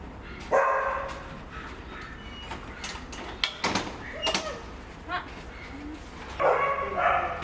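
Several dogs bark at a rescue dog shelter in Singapore, sharp barks and yips in bursts, some near and some farther off, with a door sliding and brief talk in the background.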